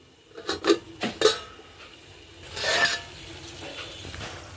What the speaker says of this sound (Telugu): ఈలోపు మూత పెడుతున్నాను